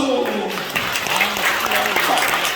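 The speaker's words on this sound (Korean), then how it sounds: "박수!" A crowd in a church hall applauds during a pastor's press conference. The clapping is dense and steady for the whole stretch, with voices talking over it.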